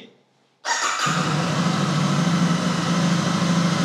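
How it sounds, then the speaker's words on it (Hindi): A Royal Enfield Super Meteor 650 motorcycle engine cranks and catches after a brief quiet moment, then settles into a steady, loud, rumbling idle up close. "इंजन का स्टार्टअप तो वैसे ही था"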